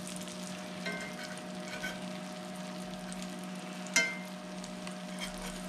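Morel mushrooms frying in a pan, a steady close sizzle and crackle with a low hum beneath and one sharper clink partway through.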